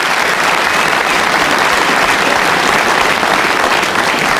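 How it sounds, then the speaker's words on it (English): A full snooker crowd at the Crucible applauds Steve Davis during his 2007 World Championship first-round match, loud, dense and sustained clapping from start to finish. "Big round of applause there for Davis"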